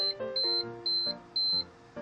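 A Google Timer kitchen-style timer sounds its alarm when the time runs out, giving four sharp, high electronic beeps in an even rhythm, loud and close, with no voices.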